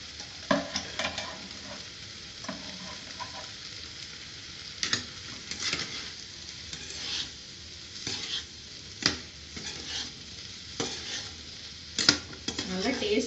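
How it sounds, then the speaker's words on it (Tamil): Grated coconut sizzles softly in a pan while a utensil stirs it with repeated scraping and clinking against the metal. A voice talks intermittently over the cooking. "இப்போ தேங்காய் போடுறேன்."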